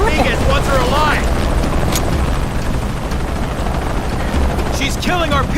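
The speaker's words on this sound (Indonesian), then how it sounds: "Astaga, sampai helikopter dong." Helicopter in the video game Shadow of the Tomb Raider, a loud continuous rotor roar under game sound effects and someone talking over it.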